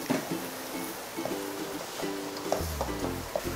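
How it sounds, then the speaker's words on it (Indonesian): Lime leaves and turmeric leaves sautéing in a pan, a soft steady sizzle with light stirring scrapes and clinks, close and fairly quiet. "Ini saya aduk-aduk dulu. Kita tumis sampai wangi."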